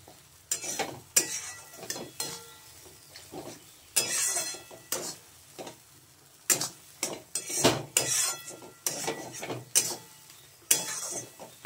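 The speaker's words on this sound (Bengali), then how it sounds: "এটাকে খুব ভালো করে কষিয়ে নিতে হবে।" Lote fish sautés in a pan while metal utensils scrape and clatter against it in irregular, close-up bursts over a faint sizzle.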